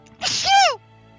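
One loud, close sneeze from a person, a sharp breathy burst that lasts about half a second and is heard alone.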